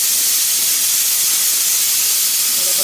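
Steam hisses out of a pressure cooker in a home kitchen after it has whistled three times, a loud, continuous, broadband hiss that stays level throughout, close and unbroken, with a faint clink near the end.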